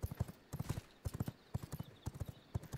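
In the video game V Rising, a horse gallops with quick, rhythmic hoofbeat clusters, fairly quiet and steady, repeating about twice per second with no talk over it.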